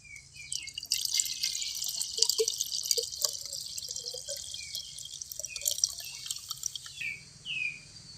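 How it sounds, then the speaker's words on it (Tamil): Sugar syrup for paanagam is strained through a filter, giving close, quiet drips and small trickles of liquid in an irregular pattern. "இப்போ நல்லா சர்க்கரை கரைஞ்சிட்டு இதை நம்ம ஒரு தடவை வடிகட்டிக்கலாம்"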